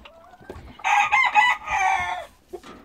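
A young Mechelen Cuckoo rooster crows once, close and loud, its harmonic-rich call rising and then holding for over a second before cutting off, with a few softer clucks and rustles before and after.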